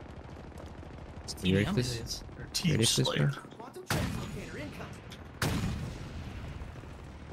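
Sniper rifle fire in Halo Infinite played in VR: two sharp, loud broadband shots stand out between stretches of excited talk from a player, with game noise underneath.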